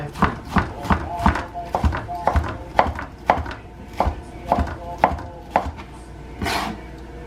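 A knife chops through pineapple on a board, a dozen or so crisp, evenly spaced thuds close up, each with a short woody knock, continuing at a steady rhythm.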